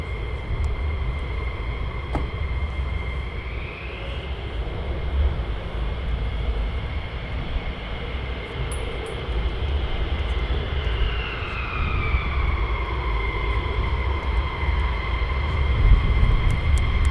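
Fighter jet departing RAF Lakenheath, a loud sustained engine roar with whining tones that rise and shift as it passes, continuous for the whole stretch with no talk.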